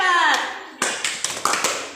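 Children in a classroom group-guidance session perform the 'tepuk hebat' clapping chant. A short voice is followed by about five sharp, evenly spaced claps in a quick rhythmic pattern, close and distinct.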